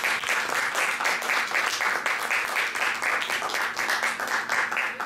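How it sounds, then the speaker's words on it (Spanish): Steady, dense applause from a crowd in an honorary ceremony at Peru's Nuclear Academy, clapping continuously and evenly at close range for the whole stretch without letting up. "un aplauso para el ingeniero"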